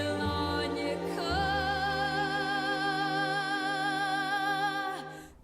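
A woman sings one long, full-bodied sustained note in chest voice with wide vibrato, strong and unaccompanied apart from a faint low backing tone.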